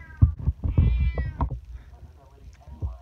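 Cat meowing several times in quick succession, close and fairly loud, with a person's voice mixed in among the cries.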